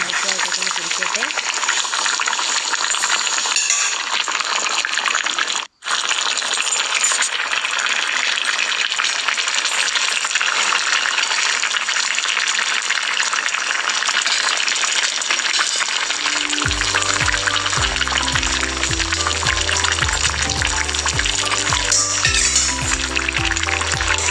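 Egg curry with kanthari chillies bubbles and sizzles in a pan as a continuous, close hiss that runs steadily, with background music joining in the final stretch.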